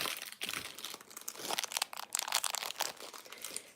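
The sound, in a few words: unwrapping snacks from their wrappers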